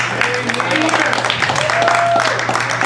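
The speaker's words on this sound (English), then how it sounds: "Give yourselves a round of applause" Audience applause fills a variety show at Club Bahia, a dense, steady patter of many hands lasting throughout, with voices talking over it.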